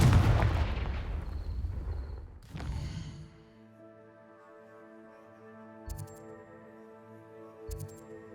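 A Confringo fire spell explodes in the Hogwarts Legacy video game, a loud fiery burst that roars and decays, then a sharp crack, before calm game music with faint magical chimes takes over.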